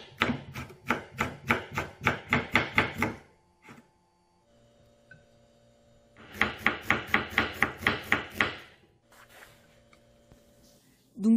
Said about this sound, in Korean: 이제 야채를 썰어주셔야 되는데 파프리카를 썰어주겠습니다